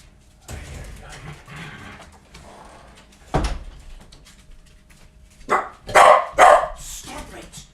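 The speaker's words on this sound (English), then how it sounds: "No barking." Dogs bark close by in a few sharp bursts that cluster near the end, with a person's voice heard earlier among household thumps.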